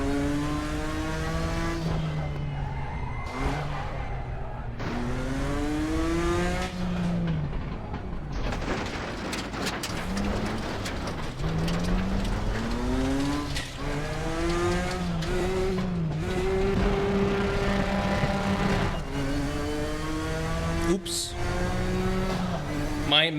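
A Nissan race car in the RaceRoom racing simulator revs hard and shifts repeatedly, its engine note sweeping up and down through the gears in a loud, close, continuous drone.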